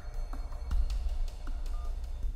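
Mobile phone dialing tones: a few short, faint beeps spaced irregularly over a low steady hum, with no talking.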